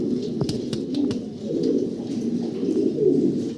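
A pair of Lahori pigeons, a male and a female, coo in low, steady, rolling calls close by, with a few faint chirps and clicks in the background.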